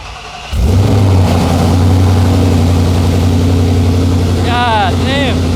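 A 2000-horsepower ProCharger-supercharged Coyote V8 Mustang street car fires up after a brief quiet moment, then settles into a loud, deep, lumpy idle close by. Short high whistling chirps cut in near the end, and people talk nearby.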